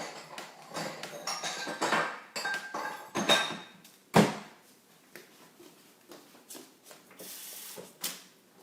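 A Pioneer Woman bowl is pulled out of a kitchen cabinet among scattered clinks and knocks of dishes, with a louder thud near the middle and softer clatters after, no voices.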